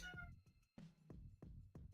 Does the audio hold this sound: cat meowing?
yes